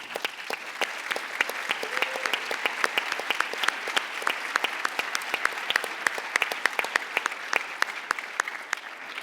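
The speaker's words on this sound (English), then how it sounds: "I think you all deserve a round of applause." A live audience applauding at an evening public conversation event, a steady patter of many individual hand claps, fairly close and crisp, continuing evenly throughout with no speech.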